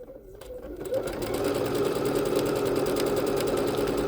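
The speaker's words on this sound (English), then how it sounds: "we are continuing to stitch out all of the decorative stitches on the B-77 Bernette" A Bernette B-77 sewing machine runs steadily, stitching a fast decorative floral stitch that moves the fabric back and forth. The motor whirs continuously and loudly after a brief start.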